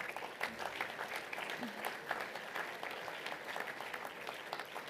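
Steady applause from a crowd at a school assembly, a continuous patter of many hands clapping at an even level throughout.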